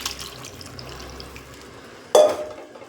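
Dissolved roasted gram powder paste is poured into simmering sambar, a sudden wet splash and liquid gush late on after a stretch of soft, low kitchen background noise.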